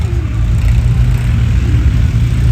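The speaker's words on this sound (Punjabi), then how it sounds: "ਰੇਤੇ ਕਰਕੇ ਯਾਰ ਸਲਿੱਪ ਮਾਰ ਜਾਂਦਾ ਟਰੈਕਟਰ" A tractor engine revs hard as its wheels slip in sand during flood embankment work in Punjab, a loud, steady, low-pitched drone throughout.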